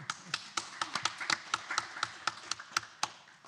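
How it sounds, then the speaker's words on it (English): Scattered applause from a city commission meeting audience welcoming a state senator, sparse individual claps in an uneven rhythm, moderately close and fairly quiet. "if you could give a round of applause for our State Senator"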